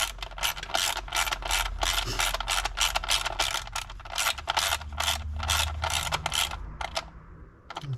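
A ratchet clicks rapidly and steadily while tightening a bolt during reassembly of a Maserati Ghibli after an oil pressure sensor replacement, the close, bright pawl ticks repeating in quick bursts with brief pauses.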